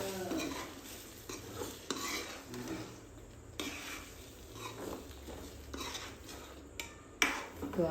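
Drumstick (saragva) vegetable curry being stirred in a pot on a gas stove, with a spoon scraping and clinking against the metal and a faint sizzle underneath, followed by coriander leaves added and the gas turned off; no talk.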